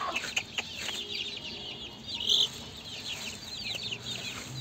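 Gurk chicks cluck and chatter close by, with a few sharper squawks rising above the steady farmyard murmur.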